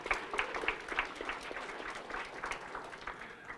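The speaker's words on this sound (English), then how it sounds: "Yeah, clap for our leaders." Scattered clapping from an audience at a school district board meeting honouring school leaders, a steady patter of moderate hands lasting several seconds with no voices over it.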